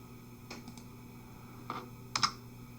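A few keys are pressed on a computer keyboard while working in Excel: three light, separate clicks ending in a slightly louder double-click, over a steady low electrical hum.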